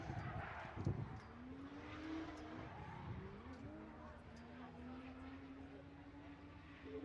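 A drift car on a solo run at Silverstone during a UK Drift Championship round, its engine droning and rising steadily at mid distance with tyre noise, under a commentator's continuous talk.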